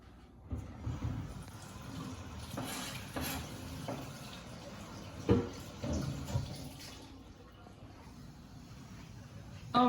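Kitchen faucet water running while a cutting board is rinsed during vegetable prep, a soft splashing flow with irregular knocks and clatters of the board against the sink, fairly quiet and close.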